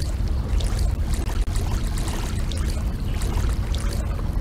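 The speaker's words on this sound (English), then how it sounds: "Spots where the water moves really fast are called rapids." Fast river rapids in the Canoe Quest game, a steady, close rush of churning water with a rough, dense texture and small splashes, alone.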